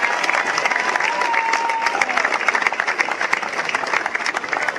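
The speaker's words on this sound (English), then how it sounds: "just give them a round of applause" Crowd applause for the organising committee at a cricket club event in Bermuda, a dense steady round of clapping from a gathered audience lasting several seconds, with some cheering mixed in.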